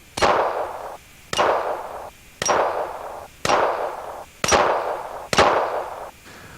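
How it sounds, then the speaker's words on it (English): A .357 revolver fires light loads at a shooting range, six sharp reports at evenly spaced intervals of about one second, each ringing out briefly before the next shot. "I'm shooting a .357 revolver, but remember, I'm shooting light loads in it."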